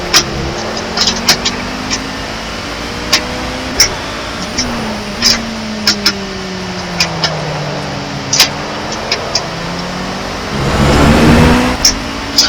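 Race car engine in the Project Cars racing game, driven with a force-feedback wheel, with rising and falling revs through gear changes, repeated sharp clicks, and a louder whooshing surge near the end.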